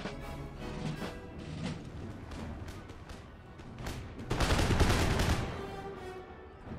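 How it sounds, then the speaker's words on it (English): Musket volley fire from line infantry in the Empire Total War video game, a run of scattered crackling shots followed by a louder, denser burst, heard at moderate distance without talk. "Pouring musketry into the dragoons because they haven't committed to their attack"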